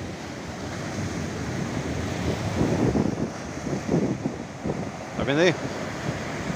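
Ocean surf on a rocky coast at high tide, a continuous broad wash of waves with wind noise on the microphone, while someone speaks briefly over it.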